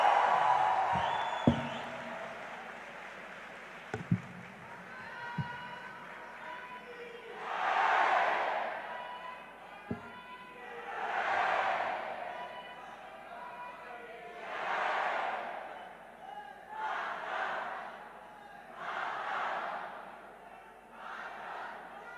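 A large youth audience at a leaders' dialogue event with an ISRO astronaut erupts in repeated rhythmic bursts of cheering every few seconds, moderately loud, after a few scattered thumps.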